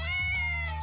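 A cat meows in a video game's village setting: one loud, drawn-out, tonal meow lasting most of a second, heard alone with no talking.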